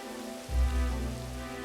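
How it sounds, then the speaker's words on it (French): Rain falls on the summit of the Piton de la Fournaise volcano at about 2,200 metres on Réunion, a soft steady patter that swells slightly after a quiet start, with a faint low hum underneath. "La preuve, il pleut sur le piton de la Fournaise."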